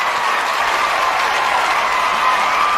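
Football fans in a stadium roar and clap in a continuous, broad wash of crowd noise that holds steady and loud from start to finish.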